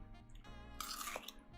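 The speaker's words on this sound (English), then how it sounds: "Enjoy the sounds of crunch." Crunchy melon with a watermelon-like texture chewed close to the mic, a few crisp wet bites and crunches standing out over quiet chewing.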